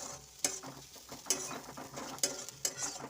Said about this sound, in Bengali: আমাদের পেঁয়াজ ভাজা হয়ে গেছে।